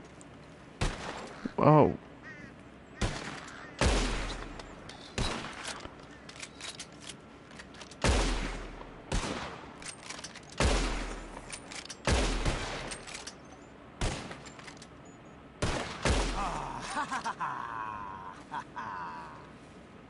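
Gunfire in the Red Dead Redemption 2 video game, a series of loud, sharp shots spaced a second or two apart with echoing tails, and a brief spoken exclamation near the start.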